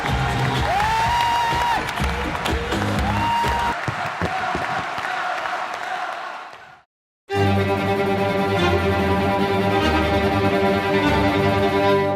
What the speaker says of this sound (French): Merci à vous 3 pour ces très beaux serments, on peut les applaudir